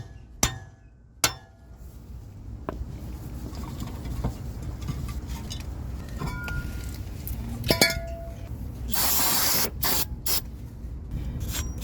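A manual impact driver is struck to loosen the rear brake bolts on a W222 Mercedes S-Class, with two sharp metallic knocks early on, then scattered clicks and clinks and a brief hissing burst in a quiet workshop.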